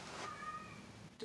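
A cat gives a single drawn-out meow lasting about a second, fairly quiet and close, with faint background noise and no talking.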